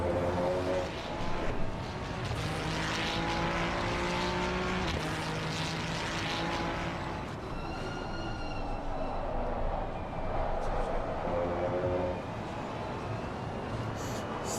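Ferrari race car lapping Bathurst in a racing video game, a steady engine drone with pitch shifts through gear changes and corners, held at moderate level with a brief passing sweep midway.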